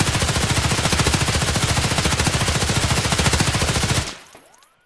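Sustained automatic rifle fire from a gun fitted with a Mutant short barrel in Escape From Tarkov, a loud rapid stream of evenly spaced shots lasting about four seconds, then stopping abruptly into a short fading tail.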